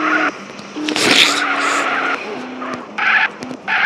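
A car drifting in the GTA video game set in Kazakhstan, tires squealing in long screeching skids over a revving engine, loud and close, with breaks and renewed squeals.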